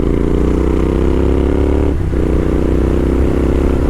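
A Royal Enfield Interceptor 650 twin-cylinder engine runs loud and close in a constant, thick throbbing rumble with a brief dip in the note midway before it steadies again, heard alone without talk.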